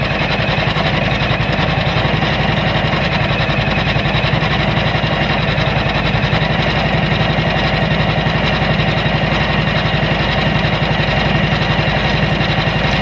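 A Janome Memory Craft 500E embroidery machine stitching steadily, a loud, continuous, even mechanical whir with rapid fine needle chatter running throughout, no voices.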